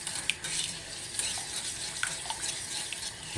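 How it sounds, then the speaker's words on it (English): White roux sauce being stirred and whisked in a pan, a brisk steady scraping with light clicks of the utensil against the metal, close and soft, with no voices. "I can feel as I'm stirring that it's starting to thicken."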